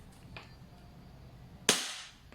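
A single sharp shot from an Umarex Glock 17 Gen 4 airsoft gas blowback pistol cracks loud and close with a brief hiss trailing after it, following quieter handling noises.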